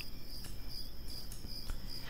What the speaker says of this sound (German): Ah, das sind viele Bienen